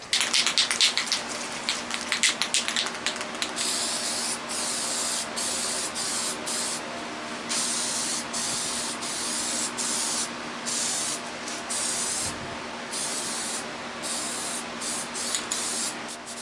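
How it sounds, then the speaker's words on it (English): Aerosol spray painting of Jeep Wrangler TJ dash pieces with Color Bond paint: loud, close hissing bursts, short rapid pulses at first, then longer sustained sprays broken by brief gaps, no talk. "we're going to paint it with Color Bond also"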